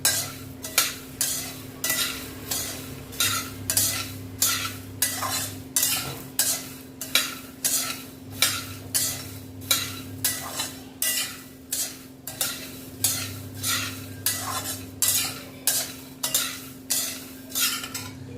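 Chickpeas dry-roasting in a pan are stirred in a steady, quick rhythm, each stroke a crisp rattling scrape, repeated about every half second for a long stretch over a low background hum.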